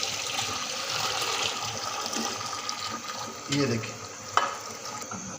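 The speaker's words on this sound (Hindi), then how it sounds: "अब यखनी को और इस गोश्त को हम इस मसाले के अंदर ऐड कर देंगे।" Beef stock and chunks of beef pour into a pulao masala with a rushing, watery splash that swells into a bubbling sizzle, followed by a few sharp clinks, while a voice speaks briefly.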